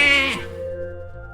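Video-game sheep bleat from a transformation spell in Runestone Keeper: a single bright, wavering synthetic bleat that bends downward, followed by a steady low tonal hum, loud and alone.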